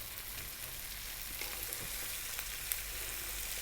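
Red cabbage stir-frying in a hot pan makes a continuous even sizzle, faint and close, with small scattered crackles and light scraping and no voices.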